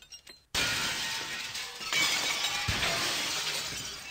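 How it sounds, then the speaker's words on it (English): Glass shattering effect in an interactive website artwork: a sudden loud crash after a brief quiet start, then a long bright spray of falling, tinkling shards that keeps going for several seconds, with a second burst of breaking midway. "And there's sound of glass breaking as well."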